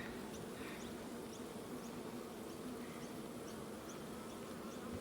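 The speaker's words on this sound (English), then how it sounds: "They're normally quite quiet bees, but I've disturbed them now 2 days in a row." Disturbed honey bees at a flow hive during a honey harvest, a quiet, dense, continuous buzz with individual bees whining past close by now and then.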